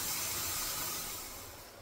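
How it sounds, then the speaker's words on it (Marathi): Jaggery tea simmers in a pot on a low gas flame, giving a soft, even bubbling hiss that slowly fades. "चहा आपला एकदम छान असं उकळलाय, मस्त बारीक गॅसवर छान उकळून दिलाय"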